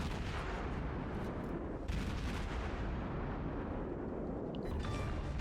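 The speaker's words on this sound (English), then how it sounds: "I'll fire my first volley in AP and then switch to HE." A warship's main battery fires an armor-piercing volley in World of Warships, a dense, heavy rumbling roar of overlapping booms under a constant loud battle din.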